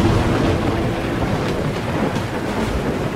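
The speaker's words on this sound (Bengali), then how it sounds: "বজ্রপাত সহ বৃষ্টির তোড়ে বাইরের দৃশ্য ঝাপসা হয়ে গেছে।" A thunderstorm with heavy rain plays as a story sound effect: a dense, loud, steady roar of downpour with low rumbling beneath and no voices.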